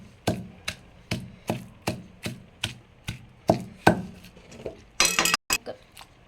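Raw garlic and tomato pounded in a stone mortar for chutney: a steady series of sharp, evenly spaced thuds, about a dozen in a row, close and clear with no talking.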